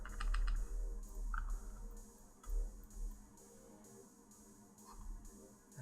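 Keyboard shortcut keys clicked while editing in Photoshop, a handful of quiet, scattered taps close to the mic against faint background hiss, with no speech.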